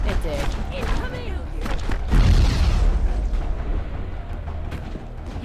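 A grenade detonates in the Mass Effect video game, a loud broadband boom with a rumbling low-end tail, amid ongoing combat noise and a voice talking over the action.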